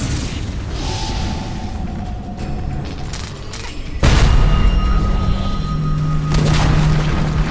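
Dota 2 tower destroyed in the game: a sudden loud boom-like impact lands midway through steady game background noise, and dense mechanical clatter and tonal effects follow it.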